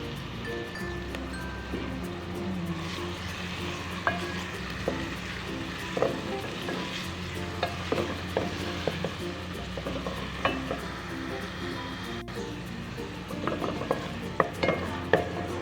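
Onions sizzle in a small amount of oil for khatti daal, with a steady frying hiss broken by occasional spoon clinks and stirring scrapes, and a low kitchen hum underneath.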